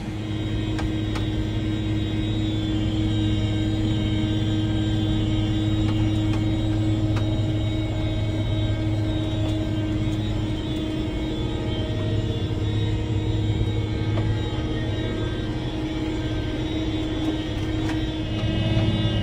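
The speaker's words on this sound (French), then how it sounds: "J'essaie de prendre un petit moment pour faire quelques images au drone." A drone flies over wheat fields, its motors giving a loud, steady droning hum with tonal whine that holds throughout with slight rises in pitch, no talking.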